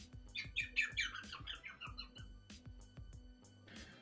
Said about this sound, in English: A squirrel sounds like this.